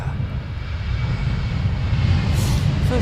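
A fixed-wing aircraft at Amsterdam Schiphol airport produces a steady low engine drone that swells gradually, with a faint hiss rising near the end and no voices.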